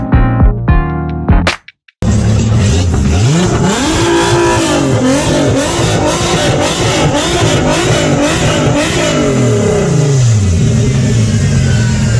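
A car pulling away on a road trip to a charity car meet, engine revving and rising through gears with a steady mid-pitched drone after a brief cut at the start, no talk.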